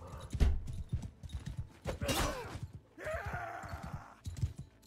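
Horse hooves clip-clop steadily in a medieval-style video game while a rider travels slowly, a rhythmic mid-level patter under game music and effects, with someone talking briefly.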